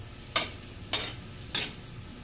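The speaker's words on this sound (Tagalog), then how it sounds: "So, gigisa na muna natin yung butter." Butter being sautéed in a pan, heard as three evenly spaced, brief bursts of sizzle over a quiet low background, each flaring up and then fading.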